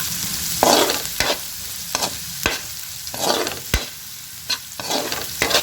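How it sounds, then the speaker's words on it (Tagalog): Garlic sautéing in a pan for green beans, a steady loud sizzle broken by repeated scraping strokes of a spatula, each stroke a sharp sweep over the hiss, with no talking. "Ayan yung bawang, oh. Gisa-gisa lang."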